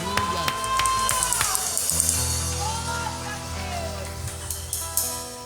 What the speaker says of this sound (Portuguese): Se você puder aplaudir, aplauda agora